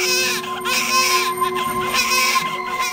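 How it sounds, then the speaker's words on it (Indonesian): A newborn baby wails loudly from inside a grave in a horror story, a continuous, close, strained cry with wavering pitch that holds for the full three seconds without pause. "hingga keluar sosok bayi yang menangis keras dari liang kubur"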